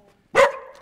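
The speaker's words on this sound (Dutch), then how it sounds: "Dit is een Sheltie." A young Sheltie gives a single sharp, loud bark up close, with a short tonal tail after it and nothing else around it.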